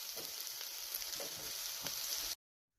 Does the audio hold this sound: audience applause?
no